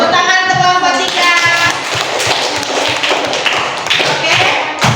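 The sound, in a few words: classroom applause for a student group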